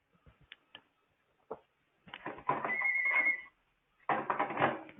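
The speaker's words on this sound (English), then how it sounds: "Too many phones in my office." An office telephone rings twice, moderately faint trilling rings after a few small clicks and taps, with no talking over them.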